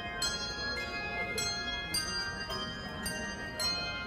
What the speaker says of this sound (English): they have people playing Christmas music with bells